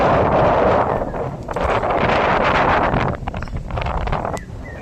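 Strong wind gusts batter the microphone outdoors on a forest pilgrimage walk to Tulsishyam in Gujarat, a loud continuous roar rising and falling with each gust.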